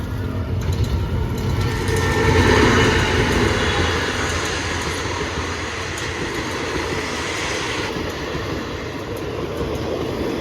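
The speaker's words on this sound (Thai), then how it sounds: "ขบวนสองสามสี่นะครับผมจะเข้าจอดที่สามเสนนะฮะ" Thai passenger train 234 with a new locomotive approaching Samsen station, a loud continuous rumble of wheels and rolling stock that swells in the first few seconds and then steadies, with no talk.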